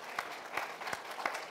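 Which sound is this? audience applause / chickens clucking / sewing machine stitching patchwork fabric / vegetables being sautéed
audience applause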